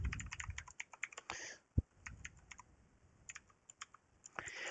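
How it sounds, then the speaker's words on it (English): Fast, quiet clatter of keys on a computer keyboard while working in Vim on Windows, with irregular bursts of clicks, one sharper low knock and brief pauses, close by and with no talking. "I think I'm typing in Vim."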